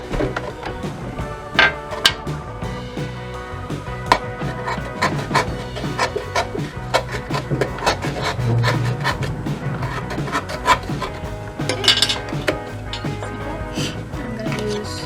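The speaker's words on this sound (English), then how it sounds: "I'm also gonna cut one hole over here to put my dowel." Someone cuts a hole for a dowel in a bird feeder, making irregular close scraping, rasping and sharp cracking sounds with brief louder knocks.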